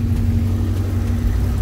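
A warmed-up Honda car engine runs at a steady low idle nearby, giving a continuous even hum with no change in pitch over a short stretch.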